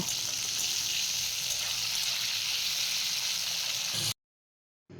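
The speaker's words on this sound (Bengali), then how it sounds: "এবার চিড়ে রাখা কাঁচা লঙ্কাগুলি দিয়ে দিলাম, দিয়ে বেশ ভালো করে ভেজে নেব" Green chillies frying in hot oil with tomatoes in a pan for a coriander potato curry, a loud, steady sizzle that cuts off abruptly and briefly resumes.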